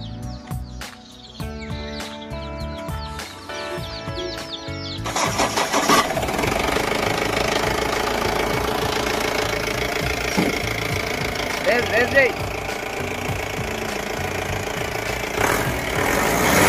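A 2016 Mahindra truck with power steering starts up after a few seconds of quiet background sound, then settles into a steady, rough diesel idle with mild knocking, close and loud.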